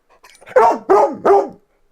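Three loud dog barks in quick succession, evenly spaced and close by, with no other sound around them.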